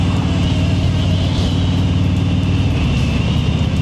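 A newly bought Harley-Davidson motorcycle ridden on the road gives a steady, loud, continuous engine drone mixed with rushing wind, without pause.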